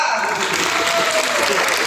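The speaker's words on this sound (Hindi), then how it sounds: "जोरदार तालियां।" Loud, dense applause fills the whole stretch, many hands clapping together steadily.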